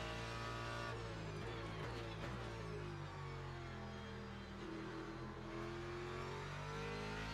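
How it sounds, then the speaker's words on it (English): A race car engine drones and revs steadily in the video game Le Mans Ultimate, its pitch rising and falling continuously with no voices. "I think that's probably one of my more favorite race car noises."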